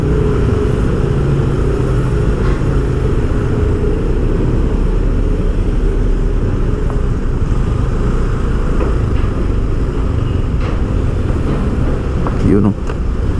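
Steady road traffic on Quirino Avenue near an interchange construction site on a Monday, a constant dense rumble of car and motorcycle engines that never lets up, with a brief louder passing sound near the end.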